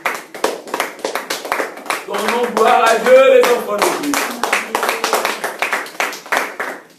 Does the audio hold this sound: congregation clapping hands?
yes